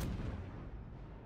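Heavy naval gunfire from the cruiser Des Moines in the video game World of Warships: a dense, booming low rumble of shots that fills the whole moment at close range, with no talk.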